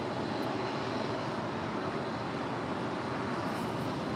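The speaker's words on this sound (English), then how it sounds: "we got the 777 now rolling down 25 left" A Boeing 777 airliner rolls for takeoff down runway 25 left at LAX, its jet engines a loud, continuous, broad roar that holds steady throughout with no voices.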